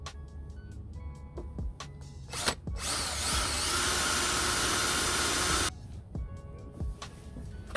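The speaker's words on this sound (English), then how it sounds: "just drill a hole" A power drill bores a hole in a car bumper, a loud, close, high whining buzz held for about three seconds, surrounded by scattered clicks and taps from handling the parts.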